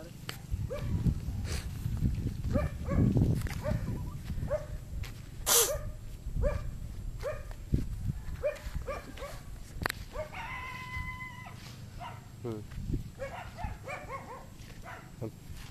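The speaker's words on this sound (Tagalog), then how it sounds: "Tapang yung asong yan." A dog barks in short, sharp bursts on an outdoor walking trail in Infanta, several barks spread across the stretch, some near and some farther off. People talk and footsteps are heard, and a rooster or other birds sound faintly in the background.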